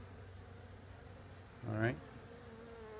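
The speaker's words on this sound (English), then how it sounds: "You have more bees." Bees in an open hive give a steady low insect hum throughout, with a person briefly speaking near the middle.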